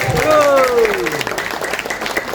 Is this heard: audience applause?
yes